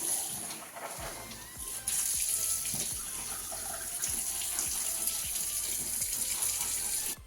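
Freshly cut banana leaves are washed under running water, with a steady faucet-like flow and occasional soft splashes and thumps as the leaves are handled.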